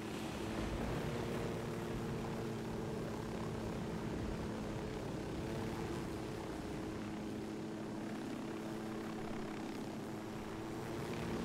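A helicopter flies in the video game Ghost Recon Wildlands, a continuous heavy rotor and engine drone with a low steady hum that fills the scene at an even level and never fades, with no talk over it.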